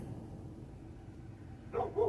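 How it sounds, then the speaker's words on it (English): A quiet room, then two short dog barks close together near the end, moderately loud and slightly muffled. "I don't know why Brenda's barking at somebody"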